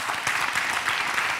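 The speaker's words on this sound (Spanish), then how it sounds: "¡Un aplauso para Andrés Llenava!" A live audience gives a dense, steady burst of applause for Andrés Llenava during a comedy interview event, with no voices rising above it.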